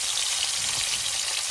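Hilsa fish sizzling in hot oil at a night camp on a boat in the Sundarbans, a steady dense crackling hiss that fills the whole moment without voices.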